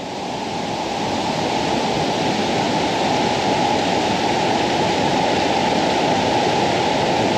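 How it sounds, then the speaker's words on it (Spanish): Small waterfall in an abandoned spa pours steadily, a loud, even rush of splashing water close by that holds constant throughout with no voices. "Una cascadita."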